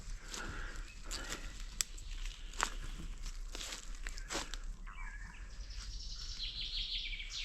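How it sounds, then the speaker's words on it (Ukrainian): Birds chirp and tweet in a forest in the Lviv region, with short calls scattered through steady outdoor background noise and a few rustling, step-like thumps. "Пташки співають."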